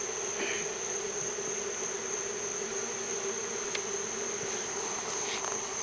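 A honey bee swarm around a bait trap makes a steady, dense insect hum that runs unbroken throughout, with faint outdoor background noise.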